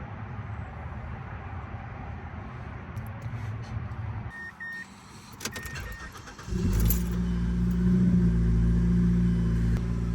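A Mazda3 car engine starts up after transmission cooler work, with an idle rumble that rises and then holds steady and loud, following some brief clicks and beeps.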